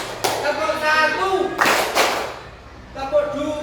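A class of children clapping a pattern together in a classroom, a few sharp bursts of group claps in quick succession with voices speaking and calling between them, close and fairly loud.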